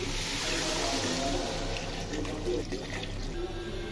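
Hot water poured over fried rice grains in a pot while making chicken biryani, a steady close splashing hiss that runs unbroken for a few seconds.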